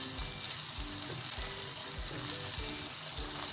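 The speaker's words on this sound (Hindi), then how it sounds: "अब इस स्टेज में हम डालेंगे 2 टीस्पून अदरक लहसुन का पेस्ट। अच्छे से मिक्स करेंगे" Steady oily sizzling of ginger garlic paste frying with onions in a pan, continuous and close, with soft stirring scrapes underneath and no talking.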